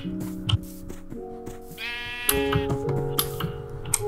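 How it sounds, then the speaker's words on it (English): Several sheep bleat in overlapping, wavering calls in Minecraft, one after another, close and fairly loud, with light clicking sounds in between. "There's just a crap ton of sheep."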